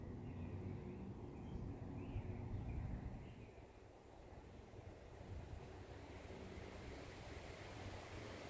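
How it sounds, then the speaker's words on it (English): Cold wind blows steadily through beech woods, a continuous broadband rush that swells for the first few seconds, dips briefly, then keeps going, with no voices. "It's a little bit cold and windy today, but it really doesn't matter."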